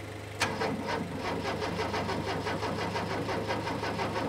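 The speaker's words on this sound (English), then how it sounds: "Now try and turn it over once" An 80s Opel Coupe barn find, its fuel pump relay suspected of failing, cranks steadily after a sharp click of the key, a fast rhythmic churning starter sound continuing without catching, heard close up with no talking.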